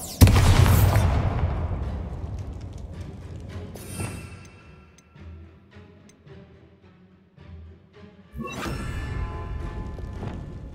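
A Bombarda blasting spell goes off in Hogwarts Legacy as a loud close explosion with a long rumbling decay, followed by quieter thuds and a second burst near the end.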